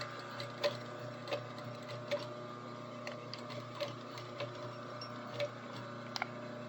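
A sewing machine runs a standard 1/2 inch seam with back stitch, giving a quiet, steady ticking of mechanical clicks over a faint motor hum, with no talk.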